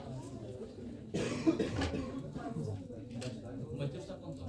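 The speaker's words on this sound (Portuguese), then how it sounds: "está com tosse" A student in a classroom coughs in a short burst, faint and somewhat distant, amid a teacher's speech and room noise.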